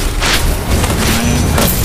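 A deep, booming blast as a tower is destroyed in a multiplayer battle arena game, loud and sustained with a rumbling low end, a single heavy explosion filling the whole moment.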